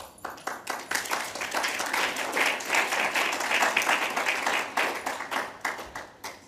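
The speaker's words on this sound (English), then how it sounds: "I was wondering when an applause would come." A sustained burst of audience applause, steady and dense clapping at full strength for about six seconds, tapering slightly toward the end, heard alone without speech.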